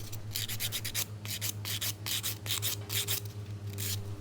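A nail file scrapes back and forth over an acrylic nail extension surface in quick, regular rasping strokes, close and steady, over a faint low hum.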